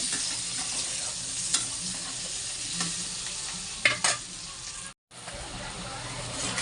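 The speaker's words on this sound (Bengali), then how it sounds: "ছোটো ছোটো আলুগুলো গোটা সিদ্ধ করেছি, করে নুন হলুদ ভালোভাবে ভেজে নিচ্ছি।" Small whole boiled potatoes fry with salt and turmeric in a pan, giving a steady close sizzle with stirring scrapes, one brief sharp clink and a momentary dropout near the end.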